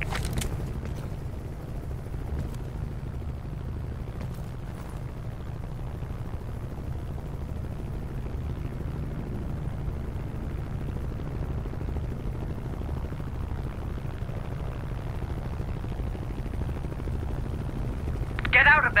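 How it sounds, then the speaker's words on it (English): An attack helicopter approaches in Call of Duty: Black Ops Cold War, a low, steady rotor rumble that drones continuously beneath other quieter game sounds, with a brief burst of noise at the end. "They're sending a chopper to your position."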